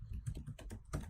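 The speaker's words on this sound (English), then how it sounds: "typing our targets in, adding them to our list" Fingers tap on a computer keyboard in a quick, uneven run of soft clicks, close but quiet, with no voices present.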